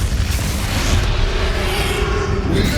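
Flipendo spell effect in Hogwarts Legacy, a loud low booming magical blast that fills the whole moment with dense rumbling energy, heard alone with no talk.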